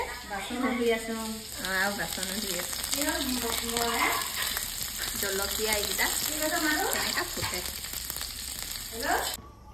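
An egg frying in a pan during home cooking for Lakhi Puja gives a steady sizzling hiss that runs throughout, under several people talking and background household voices.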